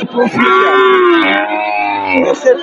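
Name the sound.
cow with calf mooing at cattle market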